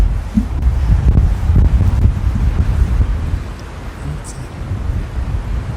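Strong gusty wind blows across an open golf course, buffeting the microphone with a loud, rumbling low roar that swells and eases for several seconds, with a voice talking faintly underneath.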